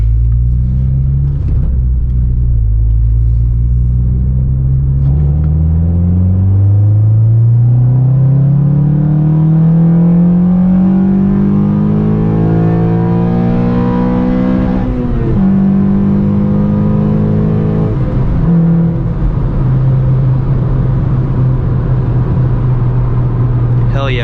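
A 9th-generation Honda Civic Si engine climbs steadily through the revs from inside the car, its loud drone rising in pitch into VTEC before a brief dip at a shift, then settling to a steady hum.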